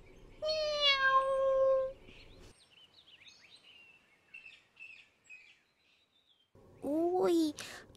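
A cat meows in a classroom, two long drawn-out wailing meows at the start and end, loud and close, separated by a quieter stretch of faint chirpy sounds and brief murmurs.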